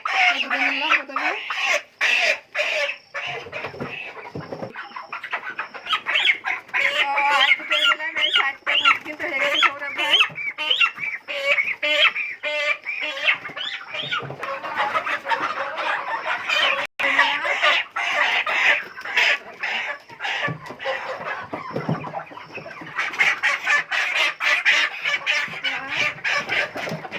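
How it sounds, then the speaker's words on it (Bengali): Chickens caught one by one for a load of about 8 kg, clucking and squawking loudly and continuously throughout, with agitated bursts and someone talking over the birds. "মুরগিগুলো কিন্তু এক এক করে ধরেছি"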